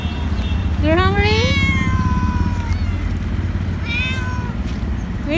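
Starving, sick stray cats cry for food, one long drawn-out meow followed by a shorter second call, loud and close over a low rumbling street background.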